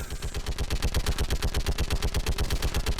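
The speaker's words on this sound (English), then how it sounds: "I can't even technically see what I'm shooting at" Rapid automatic gunfire crackles in a Mass Effect 3 firefight, a dense, loud stream of evenly spaced shots repeating continuously without pause.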